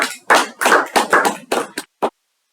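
A handful of close, distinct claps from a small meeting audience applauding a speaker: about eight separate hand slaps, slightly irregular, with short gaps and a final lone clap.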